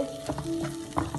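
Tomato puree frying in oil in a pan for dhaba-style chole, a soft bubbling sizzle with a few brief spatters and stirring scrapes, close and fairly quiet, no voices.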